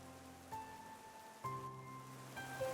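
Steady rain falls outdoors as a soft, even patter that runs the whole time beneath a layer of background music.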